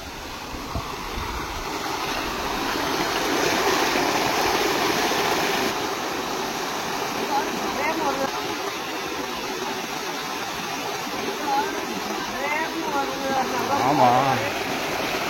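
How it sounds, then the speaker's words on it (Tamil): Strong, continuous rush of flowing water with a steady broadband roar that swells and settles slightly, plus faint low rumbling. "தண்ணி நல்ல தண்ணியான வருது."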